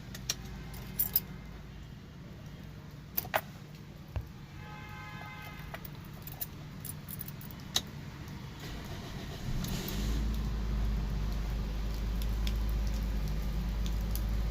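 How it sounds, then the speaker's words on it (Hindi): Keys jingle and click faintly, then a 2006 Toyota Corolla engine cranks and catches around ten seconds in, settling into a low, steady idle. "आपको इस गाड़ी का इंजन भी स्टार्ट करके दिखा देते हैं।"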